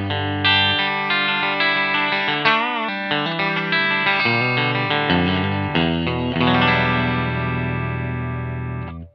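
Electric guitar played through a Fender The Bends compressor pedal with the blend control lowered, giving sustained chords and single notes with a smooth, even level and ringing tails, close and clear with no talking.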